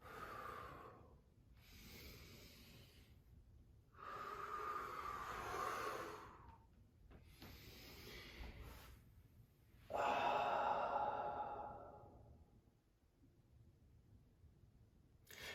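Deep, slow breathing during Tibetan rites exercise, with long inhales and exhales alternating in a steady rhythm of breathy rushes separated by brief pauses, close and fairly quiet.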